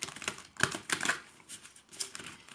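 Tarot cards are shuffled by hand in quick, crisp bursts of papery flicking and slapping, close and clear, with no talk.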